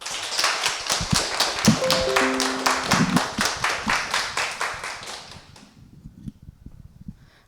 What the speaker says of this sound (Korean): 힘찬 박수로 맞이해 주세요.